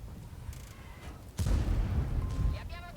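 One loud, booming tank cannon shot from a tank video game lands midway, preceded by quieter distant rumbles and followed by a lingering rumble and clanking, with a voice talking in the background.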